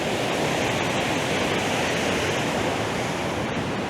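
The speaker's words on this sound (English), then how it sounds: "so you get to see the river up close. Here is how it runs under the old bridge," A river rushes beneath an old stone bridge on a waterfall hike, a loud, steady broadband roar of flowing water with no pauses or voices.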